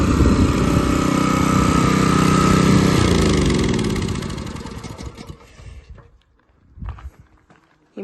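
Small engine-driven water pumps run loud and steady for about five seconds, a dense motor drone with mechanical clatter, then shut down and fade into quieter intermittent bumps and shuffles, with no talking.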